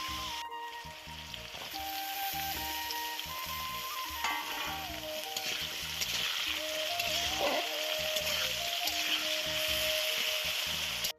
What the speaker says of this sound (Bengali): তারপরে এর মধ্যে আমি দিয়ে দিলাম কেটে রাখা আলুগুলোও কিন্তু একটু লাল লাল করে আমি ভেজে নেব।